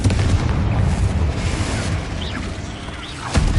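Confringo spell explosion in Hogwarts Legacy: a loud, dense booming blast with crackling debris that fades, followed by a short sharp impact near the end.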